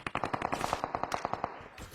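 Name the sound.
gunfire from red gun in battle royale video game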